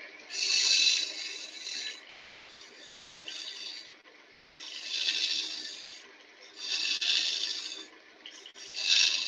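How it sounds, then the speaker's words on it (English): A small scraper rasps against spinning wood on a lathe during woodturning, coming in four or five bursts of steady scraping separated by quieter pauses, close and moderately loud. "Just use a little scraper."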